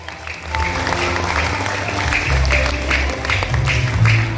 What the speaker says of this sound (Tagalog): Abi Ogens, for the last time, palakpak liwat.